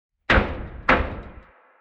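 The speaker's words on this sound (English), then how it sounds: "And the one guard bangs on my door" A prison guard bangs on a cell door twice, about half a second apart, each a loud, close slam with a short ringing decay, in an otherwise quiet space.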